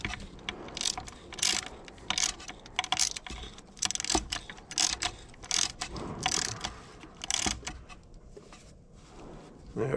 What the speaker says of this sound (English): Kind of tighten each one of these bolts down evenly.